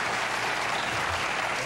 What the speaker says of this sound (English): Just applaud if you do.